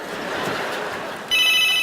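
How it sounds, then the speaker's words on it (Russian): A telephone starts ringing with a bright, steady electronic trill and cuts in loudly partway through, after a stretch of muffled room noise in a family home. "звонят вон родственники."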